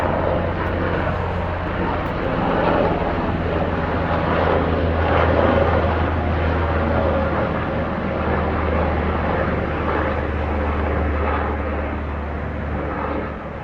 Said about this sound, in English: Oh, maybe I can go catch a helicopter real quick.